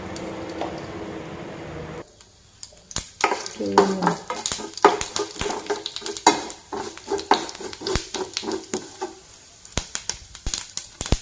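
Cumin and coriander seeds sizzle in about two spoons of hot oil in a pan for a Kerala-style chickpea curry. The sizzle starts a couple of seconds in, with steady crackling and frequent sharp clicks of a spoon stirring against the pan.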